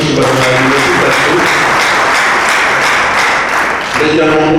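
A church congregation gives loud, sustained applause, dense rapid clapping filling the room for several seconds, with a voice speaking over it at the start and again as it fades.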